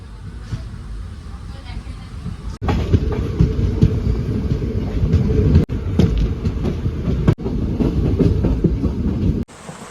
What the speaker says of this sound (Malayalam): ഇത് പാലക്കാട് നിന്നും തിരുച്ചെന്തൂർ വരെ പോകുന്ന പാസഞ്ചർ ട്രെയിനാണ്.